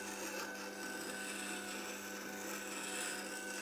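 A carving gouge is ground on a Record Power WG250B wet grinder with a short tool jig. A steady, faint, even rasping grind holds throughout with no breaks.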